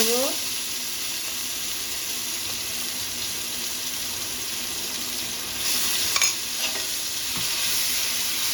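Mixed vegetables fry in a pan with a ginger and green chilli paste added in the middle, producing a loud continuous sizzle with stirring and a few clinks, close and without talk.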